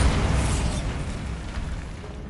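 A Bombarda spell explosion in Hogwarts Legacy, a loud broadband blast that rumbles and slowly decays over two seconds.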